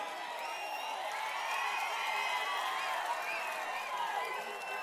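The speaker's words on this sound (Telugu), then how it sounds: "గట్టిగా చప్పట్లు కొట్టి మేమందరం ఓట్లేస్తామని" A large outdoor political rally crowd claps and cheers in a sustained, dense wash of applause with whoops and shouting voices mixed in, steady and moderately distant throughout.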